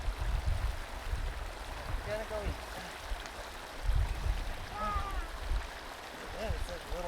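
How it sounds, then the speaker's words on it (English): A small, dirty waterfall on a mountain stream near Champion Mine on Bohemia Mountain gives a steady, soft rushing of water while people talk over it. "Man, it's like a little gross waterfall."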